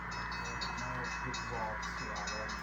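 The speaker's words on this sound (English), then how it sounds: "This train is staying on the main line." An HO scale model BN unit coal train rolls along the main line through a layout rail yard, a steady low rumble and clatter of wheels heard close, with a voice talking over it.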